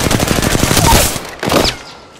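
Gunfire from the battle royale game Apex Legends erupts as a loud, rapid burst of automatic shots up close, breaks off briefly, then a second, shorter burst follows.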